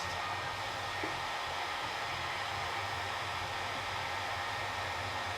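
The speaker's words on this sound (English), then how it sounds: "So we just heat this up, kind of activates the glue a little bit more." A heat gun warms the glue on interior trim in an Audi R8, giving a steady, even blowing hiss that runs unbroken at moderate volume with no talk.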